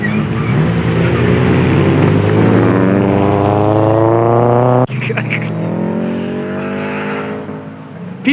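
Race cars lap a time attack circuit at a championship final, engines droning loudly and steadily with rising harmonic pitch, then a sudden drop to a second nearby engine note; a voice talks over the engine noise.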